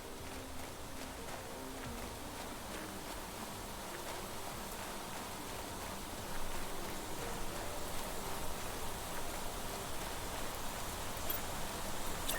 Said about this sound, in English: Wow, that's a heavy rain.